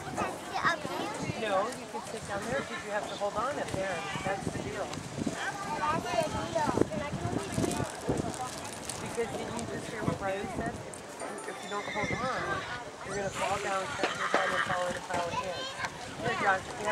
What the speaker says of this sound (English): And another horse just going too slow.